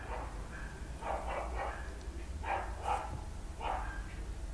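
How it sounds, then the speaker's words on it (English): Dogs barking outdoors in the distance, several short bursts in irregular clusters over a constant low background hum, faint rather than close. "There's like dogs and cats and crows."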